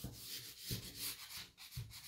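Sandpaper is rubbed lightly over a wooden tray in quiet, close strokes, a soft scratchy swish repeating in a steady back-and-forth rhythm about twice a second, with no talking.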